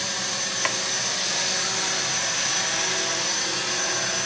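Heil-Max 230Si quadcopter motors running at full throttle give a steady, loud high-pitched whine with a broad airy rush throughout.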